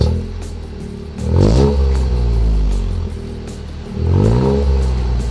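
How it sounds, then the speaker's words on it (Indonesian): A Toyota GR Yaris fitted with an HKS titanium exhaust revs twice from idle, each blip rising sharply to a loud, rasping peak before dropping back, heard up close with the engine idling between pulses. "sekarang kita disuguhin sama exhaustnya dari titanium dan ini dari brand HKS"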